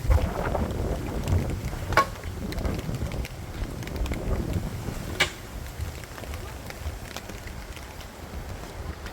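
Gusty wind buffets the microphone in low rumbling bursts, with a few sharp knocks and faint background sounds throughout.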